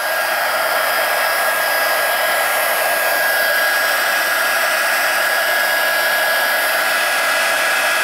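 A heat tool for embossing blows steadily throughout, a loud continuous fan-driven whoosh with a thin high whine, unchanging for eight seconds and no voices.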